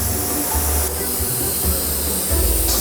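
Air being released from a container comes through as a steady, loud hiss that runs for about three seconds, with a low rumbling underneath and no talking.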